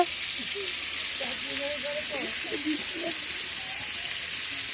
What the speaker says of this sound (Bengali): চিকেন রান্না করছে ছোট বোনের বর